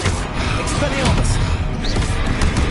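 An Expelliarmus spell fires during Hogwarts Legacy combat, with sharp slamming hits and whooshes in a loud, busy battle soundscape and voices in the background.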